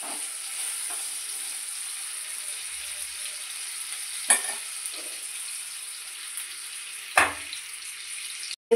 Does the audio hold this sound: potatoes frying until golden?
yes